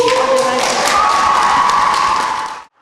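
Applause and cheering from an assembled crowd of students at a youth military-patriotic festival award ceremony, loud and dense throughout before cutting off abruptly near the end.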